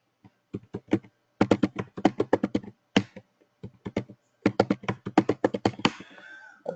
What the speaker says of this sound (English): So type the password, the old password, and give it a new password as well.